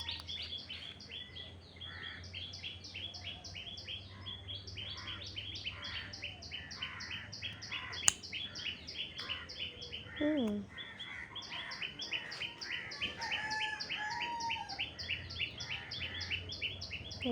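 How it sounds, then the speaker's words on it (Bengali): Birds chirp outdoors on a morning beside a marigold garden, a rapid, repeating high twittering that carries on throughout at moderate distance, with one lower descending call partway and faint background hum. "চারদিকে পাখির কিচিরমিচির"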